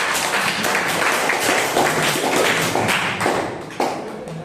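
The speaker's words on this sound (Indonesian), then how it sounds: "Beri tepuk tangan untuk kelompok 4." A classroom group claps for a student team, a dense patter of many hands at steady strength, close and lively throughout, tapering slightly near the end.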